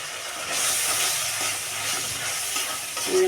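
Spices for chicken curry are stirred and fried in oil in a pot, making a close, continuous sizzle and hiss with scraping stirring strokes throughout.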